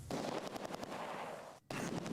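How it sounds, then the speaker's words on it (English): In Close Combat 2, a tank blows up with a dense, rumbling explosion and crackling gunfire-like bursts that roar continuously, broken by a brief dropout before the noise resumes. "There's a huge explosion down here on this tank."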